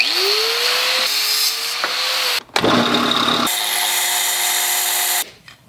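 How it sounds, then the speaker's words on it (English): A power tool cuts through a short 5/8-inch steel bolt, its motor whining steadily with pitch shifts and a harsh grinding burst midway, loud and close, stopping near the end. "I can cut it, cut this bolt,"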